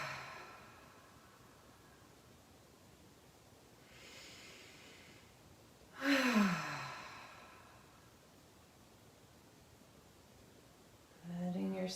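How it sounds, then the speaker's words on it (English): A deep yoga exhale pushed out through the mouth, one soft breathy rush rising and fading near the microphone, with a fainter breath before it and another starting at the end, in a quiet room. "exhale out the mouth"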